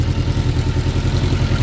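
A 2006 Suzuki GSX 600F Katana engine with carburetor problems idling close by, a steady low pulsing throb without any voices.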